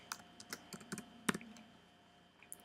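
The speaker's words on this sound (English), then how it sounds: "Let's type in our password." Keys clack on a computer keyboard as a password is typed, a quick uneven run of close, fairly soft taps with short pauses, ending in a last pair of strokes.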